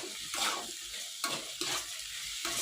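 Green plantain slices fry in a pan for a Kannada-style banana palya, a steady close sizzle broken by repeated stirring scrapes and bursts at a loose, uneven rhythm.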